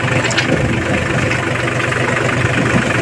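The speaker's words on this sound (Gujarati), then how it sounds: "જો મિની ટ્રેક્ટર છે ભાઈ" A small tractor engine idles steadily nearby, a continuous low chugging rumble with no breaks.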